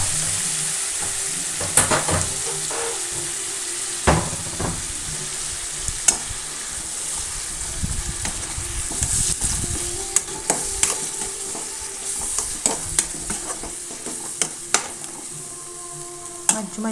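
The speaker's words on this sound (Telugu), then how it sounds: "ఇప్పుడు ఆనియన్, మసాలా పేస్ట్ ఫ్రెండ్స్ ఇవి కూడా వేసుకొని బాగా వేయించుకోవాలి, పచ్చి వాసన లేకుండా." Onion and masala paste fry in a pan for an egg and drumstick curry, a steady close sizzle broken by sharp scrapes and knocks of a spoon stirring against the pan, with no talking.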